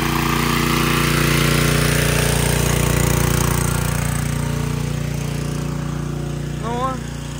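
A steady, loud engine drone from a portable generator running through the night after Hurricane Milton, continuous and close. Low hum stays constant, and a brief chirping sound rises near the end.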